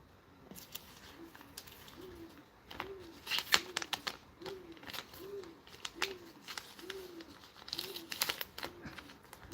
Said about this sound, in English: We can hear the damn bird outside.